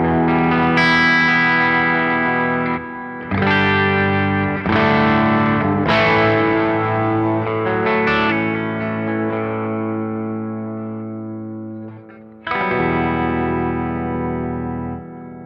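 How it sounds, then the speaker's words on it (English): Electric guitar chords played straight without the synth pedal ring out with a crunchy, effected tone, several strums sustaining and fading with a wash of reverb and echo. "let me give you the straight in sound of the guitar."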